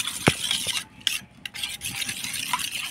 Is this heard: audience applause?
no